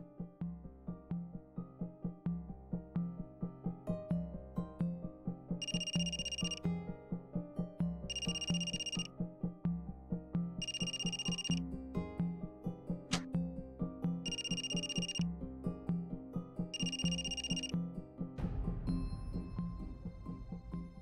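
A telephone rings unanswered in repeated bright bursts, five rings evenly spaced over a low, steady background tone, with no one picking up.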